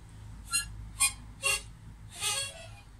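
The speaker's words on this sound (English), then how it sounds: "So that's the sound of the mouth organ." A mouth organ (harmonica) plays four separate blown chords, the last one longer, each a bright reedy burst set apart by short gaps and heard alone at moderate volume.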